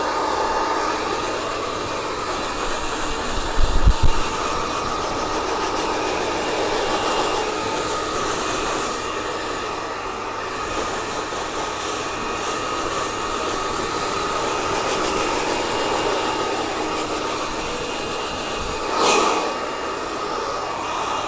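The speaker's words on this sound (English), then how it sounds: "And now we're going to come in with our blow dryer and our flat brush." A hair dryer blows in a loud, steady whoosh from start to finish, its airflow shifting slightly as it moves, with a couple of brief thumps.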